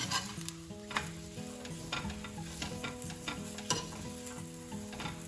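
Lachha paratha frying in desi ghee on a hot pan, a steady close sizzle with light rhythmic ticking and scraping throughout, no talking.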